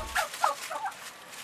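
Heritage turkeys on a farm gobble in a quick burst of three or four warbling calls, close and moderately loud over faint background noise.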